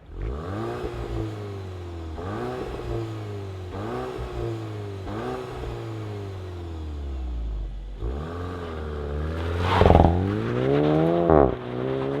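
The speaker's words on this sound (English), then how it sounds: "let's fire it up and see if it makes any noise" A turbocharged 2025 Volkswagen GTI Mk8.5 engine cranks and catches, then revs repeatedly in rising and falling bursts, ending with a couple of sharper, louder blips of throttle.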